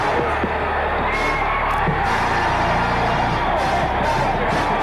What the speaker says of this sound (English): the crowd is going wild here at the Super